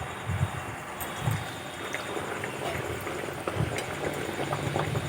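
A vegetarian Mughlai paratha fries in hot oil with a soft, continuous sizzle and faint bubbling, plus a few low thumps, at low volume with no speech.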